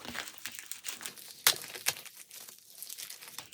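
A package being torn open by hand, close crinkling and rustling of plastic wrap with two sharper rips partway through, no talking.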